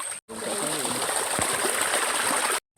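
Rushing stream water on a hiking trail at Taman Tugu, Kuala Lumpur, a steady close splashing flow with a faint voice underneath, cut off abruptly at both ends.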